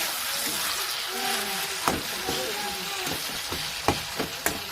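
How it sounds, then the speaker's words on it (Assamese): Masala spices fry in a pan while meat cooking is being prepared, giving a steady close hiss with a few sharp clacks of a utensil against the pan near the end and a voice faintly in the background. "মছলাখিনি ধুনীয়াকৈ ভাজা হৈছে"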